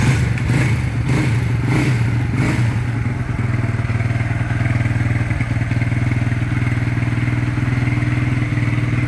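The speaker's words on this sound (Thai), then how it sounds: "125 ก็เป็นรถ 4 จังหวะ นะครับโอ้ มันเป็นรถรุ่นเก่านะ" An old 125cc four-stroke SS1 motorcycle engine idles loud and close, a steady throbbing rumble with a few rising revs at the start, then settling into an even running chug.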